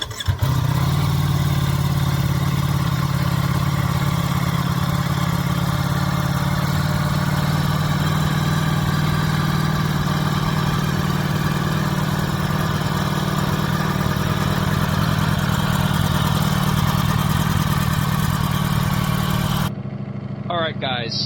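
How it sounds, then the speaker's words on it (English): A Ducati Streetfighter V4S motorcycle, roughly 200 hp with an undercarriage exhaust, starts up for the first time and settles into a loud, steady, deep idle close by that runs for about twenty seconds before cutting off abruptly. "let's hear the first startup of this bike for me. This beautiful undercarriage exhaust."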